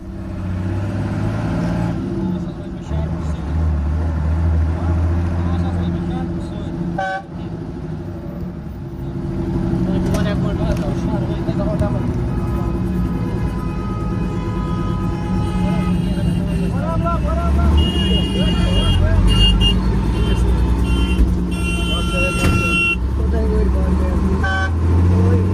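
Evening road traffic on the National Highway in Srinagar, with a steady rumble of cars and trucks, several car horns tooting near and far, and people talking over the noise.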